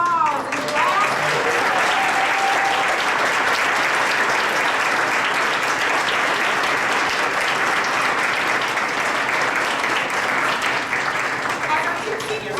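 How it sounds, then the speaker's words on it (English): Thunderous applause fills a banquet hall as seniors stand to be honored, a dense sustained roar of many clapping hands, loud and continuous with crowd murmur mixed in. "we want to give them a thunderous applause"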